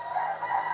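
A rooster crows in the background, a sustained, moderately loud call with steady harmonic tone lasting under a second.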